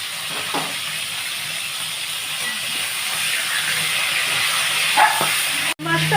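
Fish frying in hot oil in a kadai, a steady broadband sizzle and hiss that runs close and fairly loud throughout, with a brief dropout near the end.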